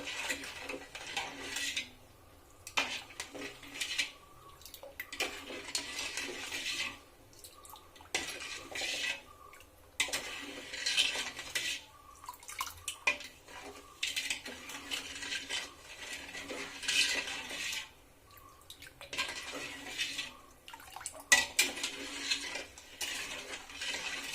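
A utensil scrapes and stirs sugar syrup in a pan as the sugar melts, in repeated bursts with short pauses, a bright scratchy rhythm over a quiet background.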